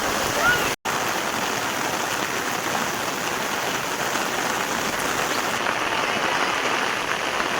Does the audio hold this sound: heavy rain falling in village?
yes